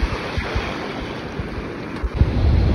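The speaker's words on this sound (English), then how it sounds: "look at those waves" Ocean waves breaking at a beach beside a fishing pier, a steady close wash of surf mixed with gusty wind buffeting, no voices.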